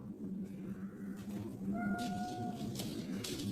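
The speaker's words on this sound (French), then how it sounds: "Ça c'est minou." A cat gives a short, faint meow at middle distance against quiet room noise, with a couple of soft thumps and rustles nearby.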